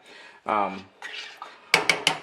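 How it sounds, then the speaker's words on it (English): A utensil scrapes browning out of a metal pot, producing a few clinking scrapes followed by three sharp metallic knocks of the spoon against the pot's rim. "just gonna scrape out that browning"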